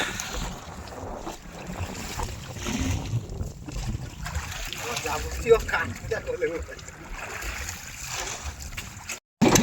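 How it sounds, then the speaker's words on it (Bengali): A boat moves off across the water at Mousuni Island, a low steady rumble blended with heavy wind buffeting and faint background voices, ending in a brief cutout. "নৌকো স্টার্ট হচ্ছে"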